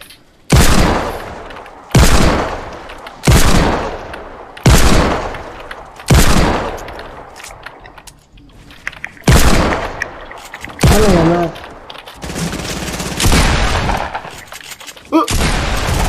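Fortnite gunfire: loud, close bursts of shots in a spaced rhythm, each trailing off into a short echo, with a few shorter crackling volleys near the end.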